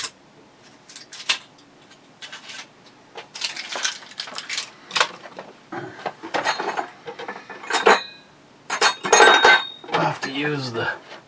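A tasting glass clinks and rattles against hard surfaces as it is handled before a rum tasting, with repeated sharp chinks and clatters at close range, a voice briefly present.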